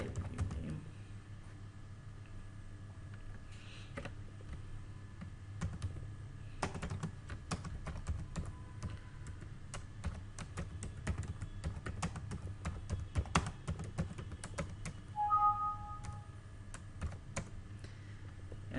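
Keys clatter on a computer keyboard during spreadsheet macro coding, with quick irregular bursts of close, light clicks and taps, some denser runs and brief pauses.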